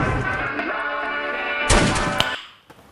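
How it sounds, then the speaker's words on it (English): A gun reload and cocking sound effect in a metalstep track, a sharp metallic mechanical clack and crash cutting through a dense, loud synth and guitar mix before the music drops away. "Do you guys hear that reloading sound?"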